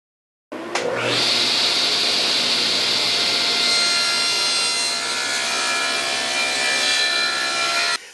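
A hand saw cuts a notch out of a piece of wood for a smartphone case, a continuous close rasping stroke that runs steadily for several seconds after a sharp start.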